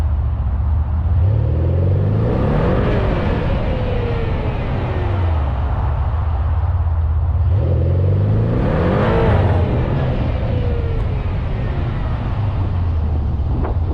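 A 2020 Mercedes-Benz C63 S AMG Coupe pulls hard through its gears on a test drive, the engine rising in two long accelerating sweeps with a steady low rumble between them, loud and close from inside the car.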